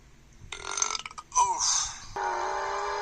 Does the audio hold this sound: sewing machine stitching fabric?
no